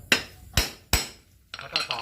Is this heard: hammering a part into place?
yes